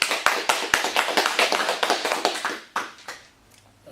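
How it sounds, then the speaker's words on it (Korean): An audience at a meditation humanities lecture applauds together, producing a burst of brisk, fairly close clapping that keeps an even rhythm for over two seconds, then thins out to a few scattered claps and fades. "우리 또 한 번 더 박수 한번 칩시다"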